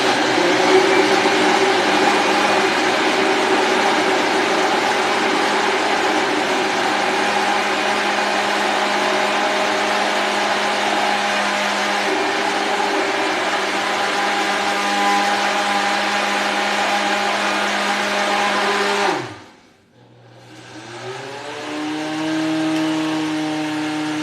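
A blender whirs loudly and steadily while making a smoothie, a continuous motor drone that runs for most of the stretch, then cuts off sharply and briefly spins back up at a lower pitch.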